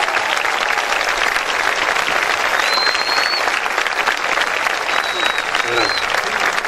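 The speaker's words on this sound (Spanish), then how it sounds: "Más fuerte el aplauso para ella." A crowd claps loudly and continuously at a folk music peña held in a club hall in 9 de Julio, with a few whistles cutting through the dense applause and voices speaking under it.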